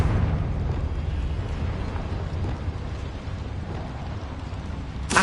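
A Confringo fire spell erupting in the video game Hogwarts Legacy, a loud, sustained rumbling blast with crackling burn that stays dense throughout, ending in a sharp pop.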